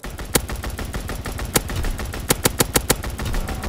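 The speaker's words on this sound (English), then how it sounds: "Strafing run inbound." Rapid bursts of gunfire from a strafing run in a video game on the Shipment map: a scattered cluster of sharp, loud cracks, several in quick succession near the end, over a busy background din.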